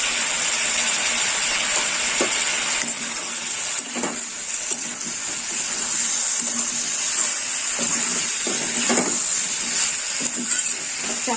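Mixed vegetables for dahi sabji are stirred in a frying pan, giving a constant loud sizzle broken by occasional scraping clinks of the spoon against the pan.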